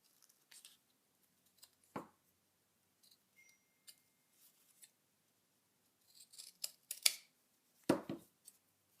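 Scissors cut around a shape in paper with soft, scattered snips and a couple of louder crisp cuts, close by in a very quiet room.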